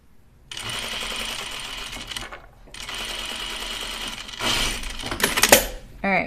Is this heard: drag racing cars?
no